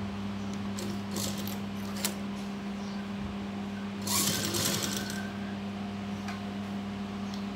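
A sewing machine stitching a fabric strip for a nightgown, with a steady mechanical hum and a few clicks, then a louder burst of rapid stitching midway before it settles back to a low hum.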